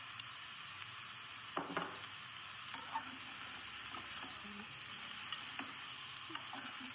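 A brinjal and dry prawn curry is stirred in a pan, with a soft steady sizzle and occasional faint scrapes and clinks of the spoon against the pan.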